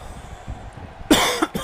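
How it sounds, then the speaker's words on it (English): A single short burst of coughing, close and fairly loud, after a quiet stretch of low background rumble; a brief second hack follows near the end. "this match, got me coughing up a storm"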